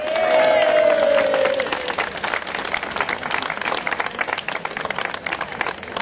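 Applause at a cycling race ceremony for the Grote Prijs J Monsere in Retie, a loud, sustained wash of clapping from a crowd, with a voice briefly heard over it at the start.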